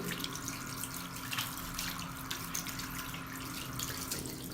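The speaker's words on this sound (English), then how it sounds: "Hand washing is a main process in the contact lens fitting." Water runs from a tap as hands are washed at a sink in a contact lens clinic, a steady close splashing stream with small irregular splatters throughout, no talking.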